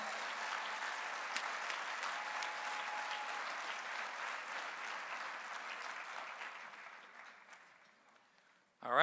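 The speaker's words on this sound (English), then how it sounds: "Let's give all of our local college and high school winners a big round of applause." A large audience at an awards banquet applauds steadily, a dense wash of clapping that gradually thins and fades near the end before a brief voice cuts in.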